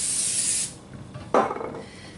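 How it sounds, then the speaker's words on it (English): Pam cooking spray hisses into baking pans for PA Dutch zucchini bread, a steady close-up spray for about half a second, then a brief rubbing rasp and a second short burst. "I think I will spray some more Pam in just to make sure that they do come out just as nice."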